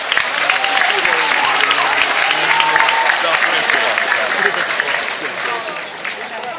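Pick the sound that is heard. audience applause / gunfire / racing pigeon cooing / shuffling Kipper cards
audience applause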